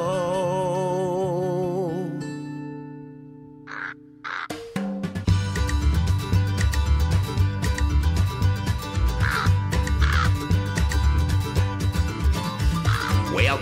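A crow caws in a song about a Christmas crow: bright harsh calls ring out over steady music with a strong beat and sustained tones, repeated caws standing out against the backing.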